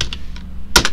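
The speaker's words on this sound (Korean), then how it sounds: "여기다가 이제 뭐라고 치냐면 대법원 전자소송이라고 칩니다" A few quick keystrokes on a computer keyboard while entering a search, close and clear, with a louder cluster of clicks near the end and no talking.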